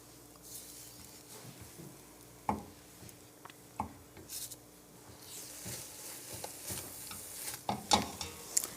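Eggs for shrimp fried rice cook quietly in a pan while being swirled, giving a soft sizzle with scattered light taps and scrapes from the utensil, faint and close.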